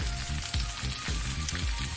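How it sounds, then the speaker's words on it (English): Garlic sizzles in a hot pan for braised short ribs, a steady close frying hiss with soft rhythmic stirring scrapes and no talking. "Now I'm adding the garlic"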